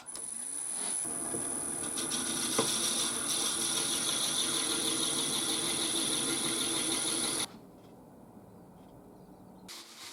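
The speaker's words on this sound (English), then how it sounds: "Just going to drill the hole now for that little knob." A steady whirring power drill bores a knob hole in apple wood, running continuously for several seconds with a high whine, then stops abruptly, leaving quiet room tone and a brief clunk.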